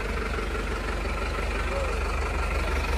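A tractor engine idles steadily on a muddy village track in Nepal, a continuous low, rumbling drone that stays loud and close without pause.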